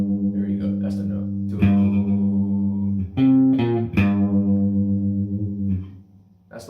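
Electric guitar through effects with distortion, reverb and echo plays notes from a riff, sustained tones broken by a few sharp picked attacks, loud and close, alone without talking.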